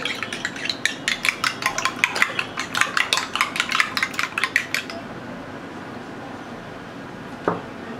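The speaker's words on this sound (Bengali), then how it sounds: "ডিম লাগছে একটা, ডিমটাকে একটু ফেটে নিচ্ছি" A single egg whisked briskly in a bowl for a cheesy chicken ball mix, a fast, even run of close clinking strokes for about five seconds, then quiet with one faint knock.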